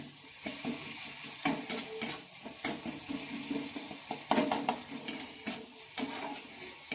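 Spice paste and neem leaves being stirred in a pan with no water, giving soft scraping strokes and a light sizzle, punctuated by sharper clinks of the spoon against the pan.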